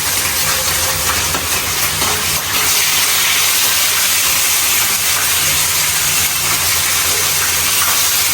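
Hilsa fish fries in hot oil in a new frying pan, a loud, close, continuous sizzling hiss that swells sharply about two seconds in and then holds steady, with no talking.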